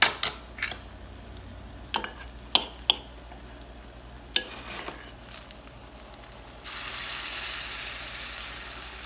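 Banana fritters with oats frying in a pot: several sharp clinks and scrapes of a utensil, then a steady hiss of hot oil sizzling that swells and continues to the end.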